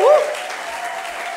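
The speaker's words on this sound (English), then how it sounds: "So can we have a massive round of applause for that?" Audience applause at a charity singing event, a steady wash of clapping from a crowd, loud at the start and then evening out.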